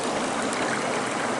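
Creek water flows in a steady, close rush of broadband noise with no breaks or voices.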